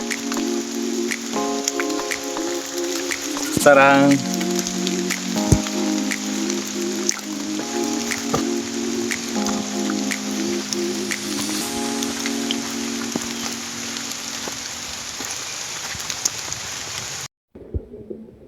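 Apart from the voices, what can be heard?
rain falling on a steep mountain trail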